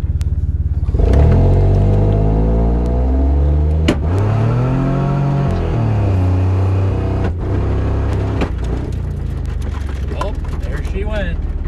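A stock 3.8 V6 Mustang on a 200 shot of nitrous revs hard and loud, its engine note sweeping up and down across several sustained pulls, with a sharp break near the middle where the bottom end gives out.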